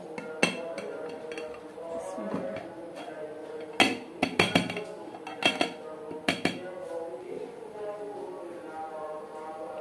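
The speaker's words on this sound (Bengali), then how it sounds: "এখন পুডিংটা আমি কেটে নিচ্ছি, ঢেলে নিচ্ছি একটা বাটিতে।" A spoon cuts chilled watermelon and milk pudding and scoops it into a bowl, giving scattered sharp clinks and taps of metal on dishware, clustered in bursts amid quiet kitchen background and faint talk.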